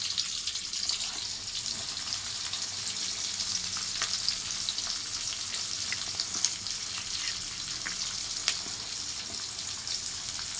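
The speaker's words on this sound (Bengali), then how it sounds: "তেলটা আমার গরম হয়ে গেছে এবার এর মধ্যে আমি পেঁয়াজটা দেবো" Onions frying in hot oil for a chicken curry, a steady loud crackling sizzle running throughout with small pops and spits, no voices.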